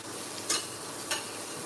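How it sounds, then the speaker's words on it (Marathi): Sabudana being stir-fried in a pan over a medium flame, with a constant soft sizzle and two brief scraping stirs of a spatula, close and steady. "मी हा मिडियम फ्लेमवरच तळते आहे परतवते आहे"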